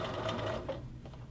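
A sewing machine stitches a hoodie cuff band with the wide plate removed, a close, steady rapid mechanical whirring and clatter of the needle running continuously before easing off near the end.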